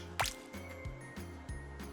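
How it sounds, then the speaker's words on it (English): Water spilling and dripping out of an extra-large rubber winter boot, with wet squishing and splashing in a few close bursts after an initial gush. "Oh, the water just came out."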